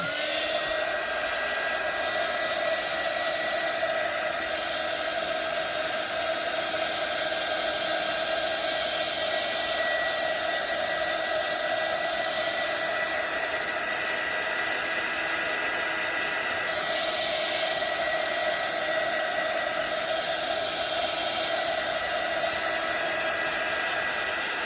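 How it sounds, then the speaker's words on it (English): A handheld heat tool blows hot air over paint on an art journal page, a steady, unbroken whooshing roar with a high whine that stays close and constant throughout. "I'm going to use this heat tool. If you don't like the noise,"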